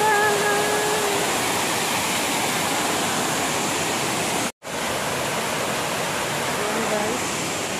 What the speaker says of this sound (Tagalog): Ang beautiful yung fountain, yung tubig.